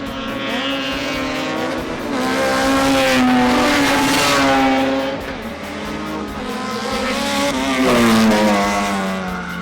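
Race cars at Wallerfield circuit in Trinidad during a Caribbean Motor Racing Championship race, engines roaring loud and close, pitch rising and falling through gear changes as cars pass in a continuous wail.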